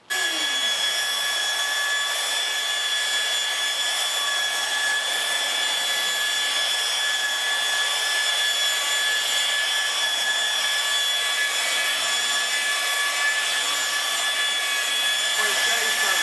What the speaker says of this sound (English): I'm going to hit it with a buffer real quick. Just a light buff, nothing serious.